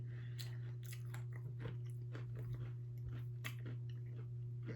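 A crunchy Thai snack bitten and chewed close up, with a sharp crisp bite followed by repeated crunching chews over a steady low hum, no talking.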